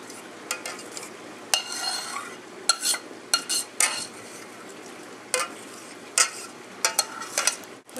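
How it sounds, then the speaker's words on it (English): A cream cheese, sour cream and herb mixture is spread over cauliflower, making soft scattered scrapes and light utensil clicks against a dish, close but quiet, with irregular gaps between strokes. "We're going to go ahead and spread on the cream cheese, sour cream, and herbed mixture on the cauliflower."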